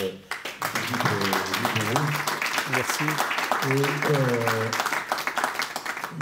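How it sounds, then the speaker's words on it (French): Audience applause after a talk at the Entretiens de Pessac, a steady crackle of clapping running under a voice that speaks over it throughout. "je crois qu'on peut applaudir"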